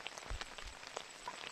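Rain falls outdoors, heard as a faint, scattered patter of drops over a short moment, with a couple of slightly heavier low thumps.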